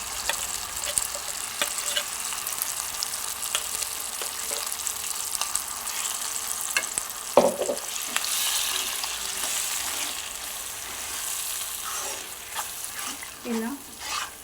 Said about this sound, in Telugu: ఇప్పుడు మనం ఇందులో పచ్చిమిర్చి వేస్తే అది కొంచెం వేడుకున్నాక ఇంతకుముందు మనం నూరి పెట్టుకున్న ఈ గోంగూర ఇందులో